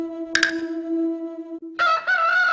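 A rooster crows as a sound effect, a loud, harmonic and drawn-out call that rises and then holds, followed by a second, brighter crow phrase near the end.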